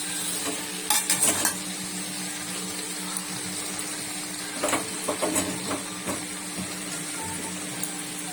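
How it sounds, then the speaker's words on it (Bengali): Fried potato and pointed gourd are turned with masala in a pan. A steady hiss of frying carries a few clustered bursts of spatula scraping and clatter. "একটু নেড়ে চেড়ে মশলাটা মিশিয়ে"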